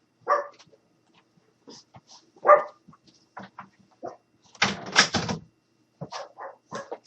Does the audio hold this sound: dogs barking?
yes